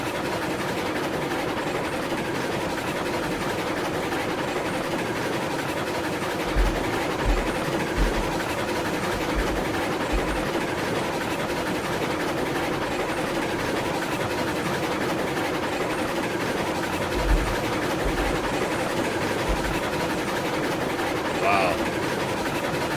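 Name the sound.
steam train running in video game Railroads Online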